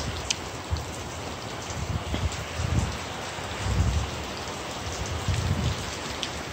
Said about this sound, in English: It was a pretty big storm.